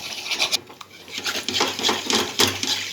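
A spoon scrapes and clinks against a pan while a homemade facial cream mixture is stirred, quick rubbing strokes and small metallic taps repeating close up.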